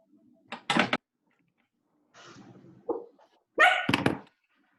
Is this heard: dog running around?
yes